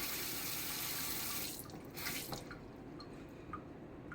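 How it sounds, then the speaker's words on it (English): Running tap water pours steadily into a cast iron pan, a continuous splashing rush that stops partway through, leaving a few faint drips and clinks. "fill it up with water once more"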